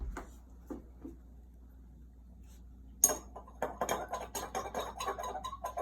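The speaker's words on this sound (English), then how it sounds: "I suggest a little stir is in order" Spoon stirring agave syrup into a drink in a glass, quiet isolated clinks at first, then a loud strike followed by rapid, rhythmic scraping and clinking against the glass bottom.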